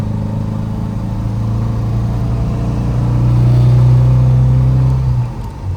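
A 1967 MGB GT's engine drones steadily at cruising speed on a mountain road, a loud, continuous in-cabin hum that swells slightly as the revs rise, then eases off near the end.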